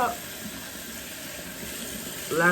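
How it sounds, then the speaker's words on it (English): Tap water runs steadily in a bathroom sink while someone washes their face during a morning skincare routine. It makes a soft, continuous rush that picks up briefly at the end. "Then what I do is I get a little water, tiny bit of water, add it to the end of it"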